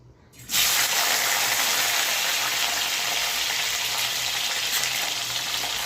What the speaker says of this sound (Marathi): आता आपल्याला हे थोडेसे नॉर्मल म्हणजे तळ तळून घ्यायचे तेलामध्ये थोडेसे